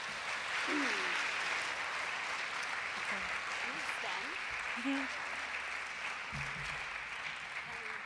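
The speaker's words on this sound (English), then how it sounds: "you don't have to clap if you don't feel like it" Steady audience applause fills a poetry performance at an ArtScience Late event, dense and continuous throughout, with a few voices briefly audible over the clapping.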